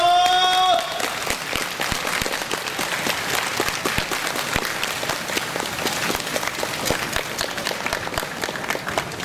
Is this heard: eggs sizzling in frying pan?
no